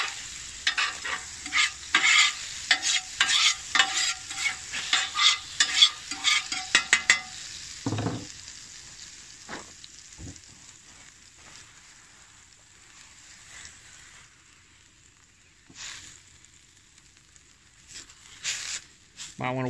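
Liquid sizzles loudly on a hot Blackstone 17-inch tabletop griddle while a spatula scrapes and pushes it around, bursts of crackle in the first half fading to a quieter hiss with scattered scrapes.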